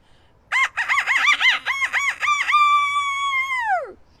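A rooster crows loudly and close: a run of quick choppy notes, then one long sustained call that bends down and fades out.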